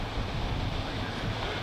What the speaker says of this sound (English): So there's big breakers coming on way up there.